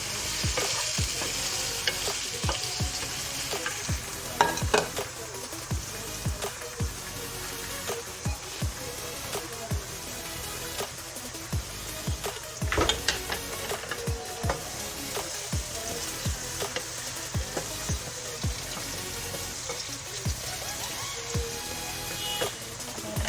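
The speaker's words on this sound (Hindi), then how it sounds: "अब यहाँ पे टमाटर डालेंगे, मिक्स करेंगे इसको" Chopped tomatoes, added to garlic and ginger for chicken tikka karahi, get stirred in a hot pan, the spoon scraping and clacking repeatedly over a steady soft sizzle.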